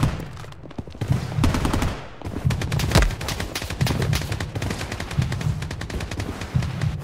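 Rapid automatic gunfire in Blood Strike, a solo-versus-squad shooter match: dense bursts and single cracks run on for several seconds, some close and loud, others further off. Almost no talk is heard.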